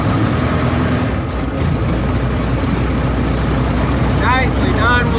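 A light aircraft engine holds a steady, loud run-up drone while the fuel mixture is leaned back for an RPM rise, a constant close roar with no clear change in pitch.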